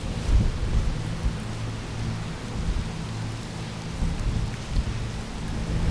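Heavy rain pours steadily on a walk from Tokyo to Yokohama in Japan, with deep thunder rumbling low and continuous underneath the dense hiss, loud and close, with no talking.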